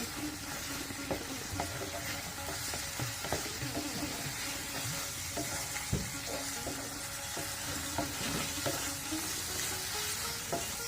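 Beef tripe being stir-fried in soybean oil, a quiet continuous sizzle with frequent scraping and tapping of a spatula against the pan.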